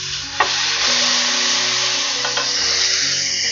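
Ground beef hits a hot pan over medium-high heat, setting off a steady, broadband sizzle that stays loud and close throughout, with a couple of brief clatters from a utensil.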